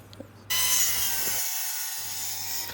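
Wood being sawn for a low-cost chicken coop, a single sustained rasping stroke close by that briefly drops out and resumes, with no voices.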